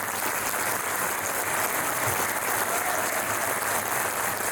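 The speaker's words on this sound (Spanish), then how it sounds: "Sí, un aplauso." An audience at a book presentation at an international book fair claps steadily and evenly, a dense wash of applause that holds its level throughout without any speech.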